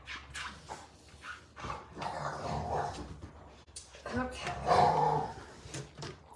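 A dog growls and grumbles in playful bursts while playing with a rock, close by, with a person speaking briefly over it and a sharp knock at the end.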